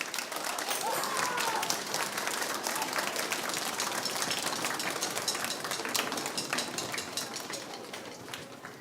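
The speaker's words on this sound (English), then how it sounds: "can we give a round of applause for your parents for all their support?" An audience applauding parents at a school district band concert: dense, sustained clapping from a large crowd in a hall, steady throughout and tapering slightly at the end.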